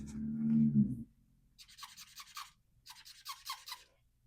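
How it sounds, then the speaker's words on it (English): Wet erase marker writing on a vellum budget tracker: short bursts of soft squeaky-scratchy strokes, near and fairly quiet, coming in two clusters after a low hum at the start. "Since it's vellum, I should probably use a wet erase marker."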